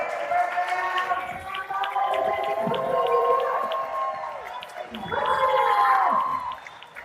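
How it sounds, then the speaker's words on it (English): A crowd at a Miami local final of a sustainable cocktail championship whoops and cheers loudly for Annie Berger, with raised voices rising and falling in two surges over several seconds. "Please give a very loud round of applause."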